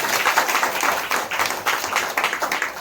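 Steady applause from a seminar audience, many hands clapping together in a dense, continuous wash that stays loud throughout.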